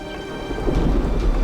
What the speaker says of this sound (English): Little by little, they grow into massive thunderclouds until they burst in a torrent of rain.